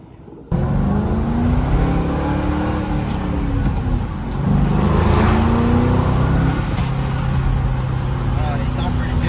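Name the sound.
2005-2009 Mustang GT with Corsa Extreme axle-back exhaust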